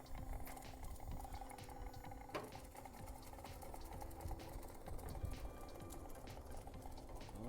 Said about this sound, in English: So we're going to start off with the transmission drive, and let's see how fast this goes up.